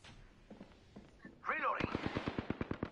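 Rapid gunfire from Apex Legends, starting as a few scattered shots and building into a loud, regular burst of automatic fire, with a voice calling out partway through.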